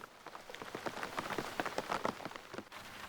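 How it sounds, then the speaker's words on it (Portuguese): Rain falls at nightfall in the Argentine Pantanal, Mburucuyá, with dense pattering drops hitting surfaces close by, steady and fairly quiet. "Com o anoitecer, a chuva chegou como um alívio"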